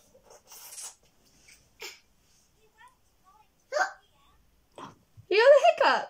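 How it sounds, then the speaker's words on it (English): A young child hiccups several times, each hiccup a short, sharp, close burst separated by pauses, with voices chattering near the end. "You got the hiccups."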